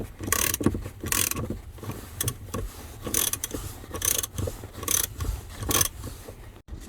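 A ratchet works the 13 mm front seat nuts of a Volkswagen New Beetle, giving close, repeated bursts of rapid clicking between quieter scraping handling sounds.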